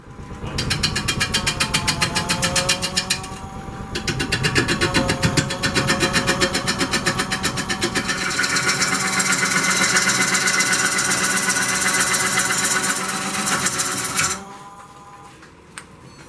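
A bowl gouge makes pull cuts across a spinning walnut bowl on a lathe, a loud continuous rhythmic chatter and motor drone that stops near the end, leaving quieter room noise.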